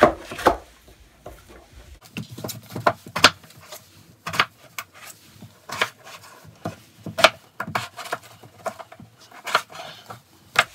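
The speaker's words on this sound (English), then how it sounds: "we're going to take these two potatoes and chop them up into little pieces" Two potatoes are chopped into small pieces on a cutting board, irregular sharp knife knocks and taps, close and moderately loud, with brief quiet gaps between strokes and no voices.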